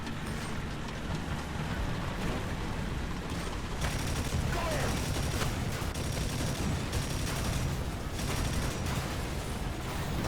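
T-60 light tank's autocannon fires in bursts during War Thunder ground battles, repeated rapid shots over a constant engine rumble and battle noise.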